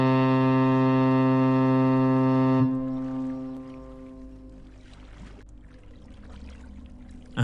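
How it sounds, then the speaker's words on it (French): A deep, powerful foghorn-like blast sounds loud and steady over the ocean, then cuts off and gives way to faint wave and water noise with a few soft splashes. "Un clarion grave et puissant résonna à travers les vagues."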